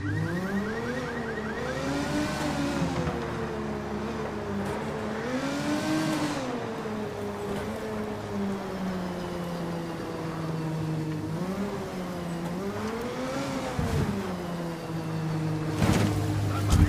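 A car engine drones continuously in Ghost Recon Wildlands, its pitch rising and falling in repeated revving sweeps as the vehicle speeds along. The engine is loud and steady throughout, with no talking.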